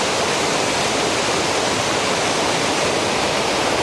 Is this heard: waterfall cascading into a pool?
yes